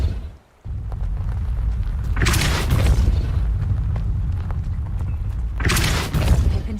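A Depulso force spell is cast in Hogwarts Legacy, giving a loud, low boom over steady rumbling game noise, with bright whooshing bursts rising twice during the spell effects.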